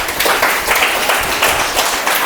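A church congregation claps together during a Telugu Christmas sermon, making a loud, dense, continuous clatter of many hands that rises and falls in waves, with no voices over it.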